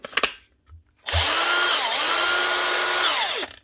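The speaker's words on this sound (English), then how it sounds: "Does the nut gun work?" A cordless nut gun impact wrench, one of a batch of Bosch, Makita and DeWalt tools under repair, whirs loudly for about two and a half seconds after a few brief clicks, its pitch dipping once mid-run before winding down.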